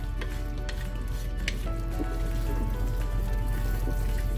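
Ground spice powder sizzles and fries steadily in a pan over medium-low heat for a beef shank korma, a continuous soft crackle with faint stirring scrapes and no talking.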